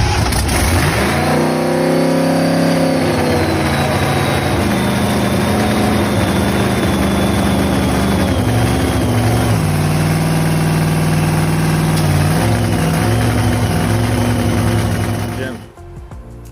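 A screw-blown 521 cid Hemi engine runs close and loud, revving up at the start, then settling into a lumpy idle with a few blips of throttle, before cutting off near the end.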